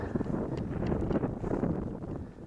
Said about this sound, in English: Getting real windy.